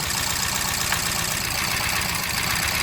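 A car engine idles roughly with a steady, uneven knocking pulse from a misfiring cylinder, close and continuous.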